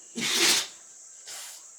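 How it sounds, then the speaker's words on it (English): A dog sneezes: a single sharp, breathy sneeze burst up close, followed by a fainter, shorter snort about a second later. "My dog is sneezing."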